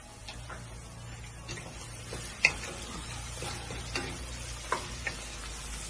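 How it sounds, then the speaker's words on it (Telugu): Two chopped medium onions frying in oil in a pan for goat sambar, a quiet steady sizzle with a few soft clicks of stirring. "2 మీడియం సైజు ఉల్లిపాయలు కట్ చేసుకొని వేసుకోండి."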